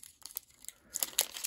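Crinkling of a foil wrapper on an Upper Deck Connor Bedard hockey card pack as someone struggles to open it, soft irregular rustles building to a few louder crackles, close and quiet with no talking.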